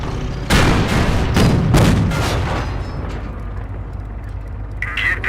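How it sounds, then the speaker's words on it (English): A Panzer tank cannon fires in the World War II strategy game Company of Heroes, a loud booming blast followed by a second heavy shot and a long rumbling decay, then a brighter metallic hit near the end. "That shot from the Panzer scored a critical hit"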